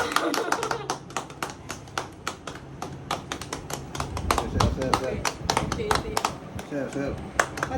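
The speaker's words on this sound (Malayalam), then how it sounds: "Let's cut. കയ്യടി" At a cake cutting for an Indonesian-Kerala couple, a group claps in a brisk, uneven patter of sharp hand smacks close by, while people talk and cheer over it.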